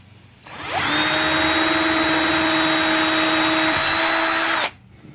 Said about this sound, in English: So I'm going to go ahead and just drill them out for our screws.